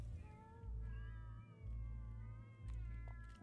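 A cartoon cat meows several times in the video game South Park: The Fractured but Whole, faint, drawn-out cries over a loud, pulsing low rumble.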